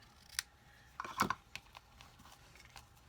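Scissors snip through ribbon at a card-making craft session: a few short, crisp cuts clustered near the middle, fairly close and clear, with light paper rustling around them and no talking.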